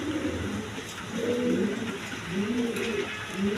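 Pigeons at a breeding farm coo softly and continuously nearby, with overlapping throaty calls rising and falling over a faint background hum.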